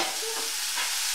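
Diced peeled apples cook over low heat in a covered pan with no added water, giving a soft, steady sizzle and hiss, close and continuous.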